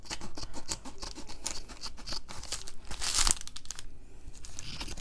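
Scissors cut through a shipping envelope along its edge, producing a rapid series of crisp snips and papery crinkling and crunching, close and fairly loud, with no talking.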